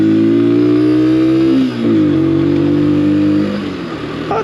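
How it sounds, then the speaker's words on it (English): A Keeway K-light 125 motorcycle engine revs up steadily, dips briefly as the throttle eases, then climbs again into a low, growling drone, heard close and alone. "it growls a little bit more when you take it up the revs"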